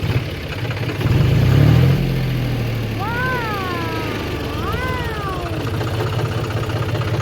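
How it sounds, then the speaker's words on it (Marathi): Farm tractor engine cranking and firing up with a louder low rumble, then settling into a steady idle, with a faint whistling tone drifting over the running engine. "बघू महादेवाच्या कृपाने ट्रॅक्टर चालू होत आहे"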